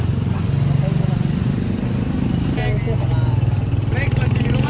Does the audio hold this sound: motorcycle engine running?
yes